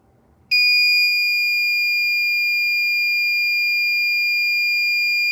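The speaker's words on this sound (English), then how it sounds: "when it exceeds 5 millimeters, it will sound an alarm." An endotracheal tube movement detection device triggers its alarm: a sudden, loud, piercing electronic tone switches on after a brief quiet and holds steady without pause through the end.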